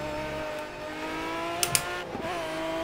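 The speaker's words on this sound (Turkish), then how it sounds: "Motor sesleri de ayrı bir efsane." Aston Martin Vantage engine in the racing game Project Cars, a steady mid-pitched hum holding a near-constant tone, moderately quiet with a couple of brief clicks.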